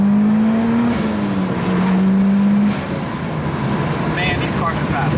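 A Mitsubishi Evo 10 with a turbo blow-off valve accelerates hard with a loud, close engine drone that climbs in pitch and then drops as the gear changes, followed by a brief hiss, with people talking over it.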